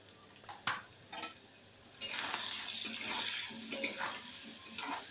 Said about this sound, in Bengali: তো দেখুন হলুদ আর নুনটা দিয়ে আমি আবার একটু নাড়াচাড়া করে নিচ্ছি।